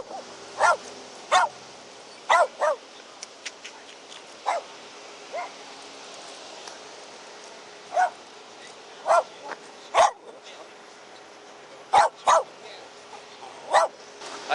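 A dog barks in sharp, separate yelps and barks spaced a few seconds apart, fairly close and loud against a quiet background hum, with a woman's speech now and then.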